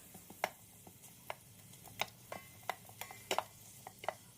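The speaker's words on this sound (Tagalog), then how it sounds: "Haluin lang natin para masute ng mabuti." Onions for beef mechado sauté in an Instant Pot, a faint sizzle under a quick irregular series of light spoon clicks and scrapes against the inner pot.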